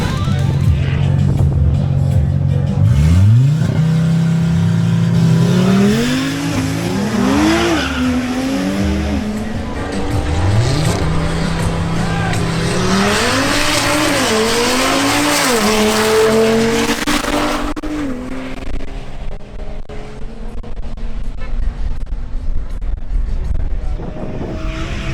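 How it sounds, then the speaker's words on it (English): An Audi RS3 accelerates hard at a drag race, its engine close and loud, revving up through several gear changes with rising and falling pitch before the roar fades into crowd and track noise. "Next up is Fernando Martinez in his Audi RS3."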